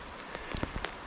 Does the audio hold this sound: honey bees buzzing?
no